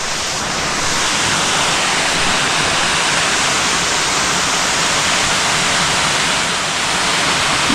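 A waterfall seen from the top of a steep descent on a forest trail, a loud steady roar of falling water filling the whole clip.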